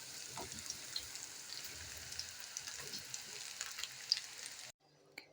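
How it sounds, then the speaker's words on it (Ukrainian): Quiet sizzling and crackling of eggplant frying in hot oil, a soft continuous hiss with small pops, cutting off near the end. "Прикладаємо баклажани смажитися на розігрітій олії."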